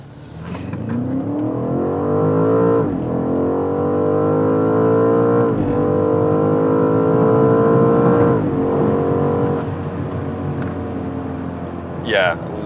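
A BMW M5 G99 accelerates hard, its engine note climbing steadily and dropping sharply at each quick upshift, heard several times in a row, loud and close, with people talking over it.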